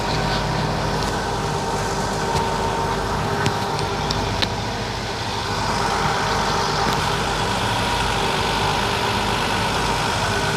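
Engine idling steadily at about 1,000 RPM, a loud continuous low rumble with a few faint clicks and ticks over it, no speech.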